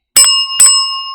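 A bright bell ding used as a notification-bell sound effect, two sharp metallic strikes in quick succession that ring on clearly and alone.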